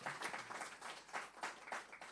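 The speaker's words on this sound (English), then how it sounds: "Give her another round of applause, please." Applause from an audience at a Jamaican poetry and song competition awards ceremony, a steady wash of clapping in rolling bursts, moderately distant and fairly quiet, with no voices over it.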